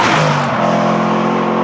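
A heavily modified Aston Martin Vantage race car on a track roars loud and close, its engine note sliding lower and then holding steady, without speech.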